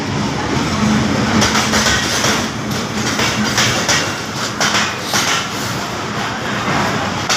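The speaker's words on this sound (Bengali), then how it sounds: "বন্ধুরা দেখতে পাচ্ছেন ঢাকা থেকে বিমানবন্দরে ঢুকেছে একটা ট্রেন" Long train pulling into Airport railway station in Bangladesh, a loud continuous rumble and rattle of wagons rolling past nearby without pause.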